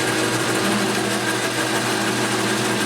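A metal lathe is cutting a steel stud on a car shock bolt, giving a loud, continuous, steady machining whine and hum that holds unchanged throughout with no talking.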